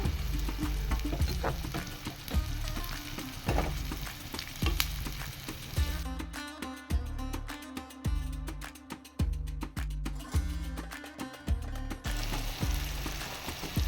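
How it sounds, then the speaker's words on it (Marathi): Tomatoes and spices for a prawn coconut curry fry in a pan with a steady sizzle, broken by repeated stirring knocks and scrapes in a loose rhythm. It is close and moderately loud. "आता बरें भाजता."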